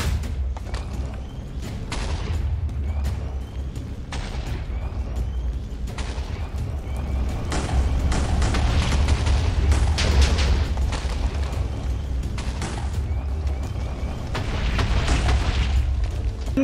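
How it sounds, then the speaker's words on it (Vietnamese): Deep booming explosions in a forest in the video game Poppy Playtime, with crackling blasts rumbling continuously, heavy low-end thuds and sharp bursts layered through a dense, chaotic soundscape. "Vừa nghe có tiếng nổ trong rừng"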